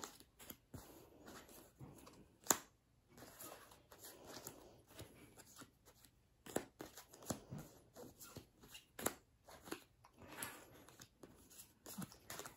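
Playing cards handled and sorted into piles by type, with soft slaps, flicks and shuffling rustles at an irregular pace, quiet and close.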